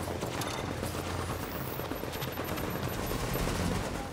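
Rapid automatic fire from a gun turret in the video game The Division rattles continuously at moderate, fairly quiet level, dense and unbroken for the whole stretch.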